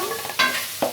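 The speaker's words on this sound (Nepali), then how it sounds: "यसरी राम्ररी चलाउँछौं।" Spoon stirring onion pakora batter mixed with salt and chopped green chilli, soft scraping with two sharper clinks of the spoon against the bowl, close and without talk.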